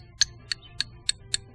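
A lead wheel weight being struck against something hard, giving five evenly spaced dull metallic clinks, close and fairly quiet, with no talking.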